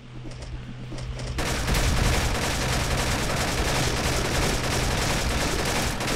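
Chain of explosions tearing through zombies in the video game Dread Dawn, a dense continuous barrage of crackling blasts and gunfire-like bursts that kicks in abruptly and stays loud throughout.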